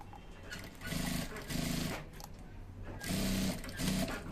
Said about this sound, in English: We're sewing this down one to the black